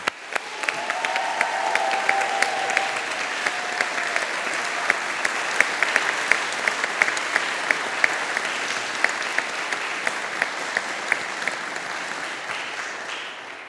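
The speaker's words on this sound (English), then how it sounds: "let's everyone give our graduates a resounding round of applause" Graduation ceremony audience at an engineering faculty giving the graduates a long, steady round of applause, dense and even clapping from a large crowd that holds for the whole stretch, with a few sharper claps standing out.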